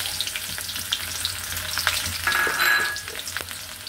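Onion hitting very hot oil on a stove, a loud steady sizzle that swells briefly toward the end, with occasional crackles and no voices.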